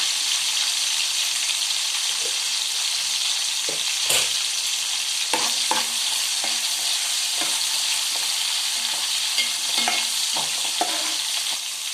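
Cumin seeds sizzle loudly in hot oil, a dense continuous frying hiss with scattered crackles and faint stirring clicks, no talking.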